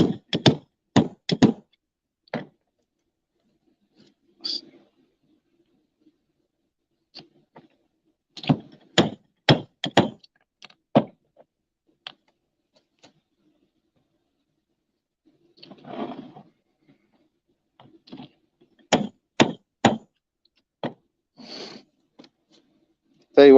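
Fragrance sample vials are hammered into place in sharp clusters of three or four hard knocks, separated by quiet gaps, with a few soft murmurs in between.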